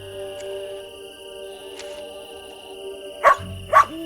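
A dog in the video game Lost Lands 9 lets out two short, sharp barks near the end, over a quiet, steady ambient game soundscape.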